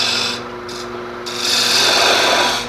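A tulip-shaped wood vessel spins on a lathe while a boring tool scrapes it down toward the faceplate diameter. The cut makes a steady, close, rasping hiss over a low motor hum, and it swells louder near the end.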